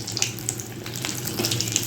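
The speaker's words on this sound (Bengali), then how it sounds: "এবার আমি এটা এই যে সাদা তেলে দিয়ে দিলাম ভাজার জন্য" Food fries in white cooking oil with a continuous close bubbling sizzle and scattered sharp pops, with no voices.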